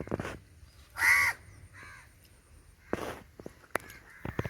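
Harsh caws from a crow ring out nearby, a few separate calls spaced through the clip, with faint clicks and rustles between them.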